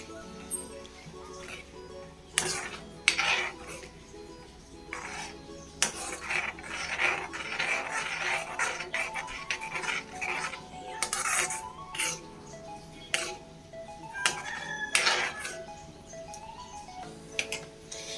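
A large spoon stirring palak paneer with cream in a pan, giving quiet, irregular metallic clinks, taps and scrapes against the pan that go on steadily for the whole stretch.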